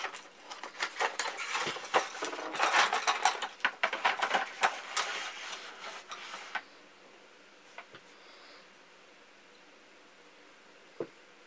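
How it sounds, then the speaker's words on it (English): Packaging of an FMA Supersonic crossbow box of carbon high-impact bolts being opened and handled: a dense run of close clicks, rattles and rustles, then near quiet with one last tap. "we'll open the box up and have a look"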